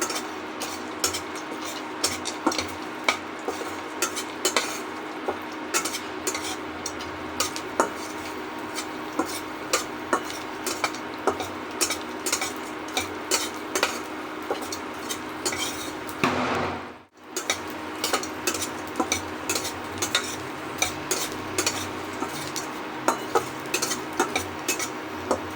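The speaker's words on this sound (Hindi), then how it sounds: "आप देखिए गोंद कैसे फ्राई होता है" Edible gum (gond) frying in hot ghee for winter dry-fruit ladoos, giving a steady dense crackle and sizzle with scattered sharp pops, close and continuous apart from a brief break near the middle.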